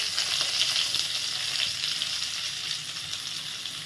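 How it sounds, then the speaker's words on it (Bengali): Chopped onion hitting a pan of minced garlic that is already reddening, a steady, bright, close sizzle that holds evenly throughout with no one speaking. "এতে দেব পেঁয়াজ কুচি"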